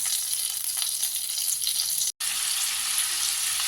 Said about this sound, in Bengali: এবার এগুলো তুলে এর মধ্যে আলুটা ভাজবো